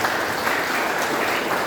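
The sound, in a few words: congregation applause in church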